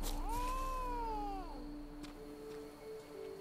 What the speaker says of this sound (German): Hat die Katze mich angefaucht?